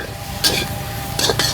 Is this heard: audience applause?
no